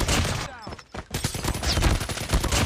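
Light machine gun spraying in the mobile shooter Call of Duty: Mobile, a loud dense burst of rapid automatic fire that breaks off briefly and then resumes, continuing steadily to the end.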